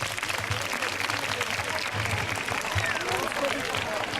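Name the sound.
audience applause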